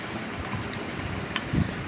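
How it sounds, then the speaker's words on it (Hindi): Strong wind blowing outdoors in Karachi, a steady, full roar of rushing air that fills the whole stretch without pause, with a brief heavier buffet near the end. "क्योंकि बहुत तेज़ हवाएं चल रही हैं कराची के अंदर।"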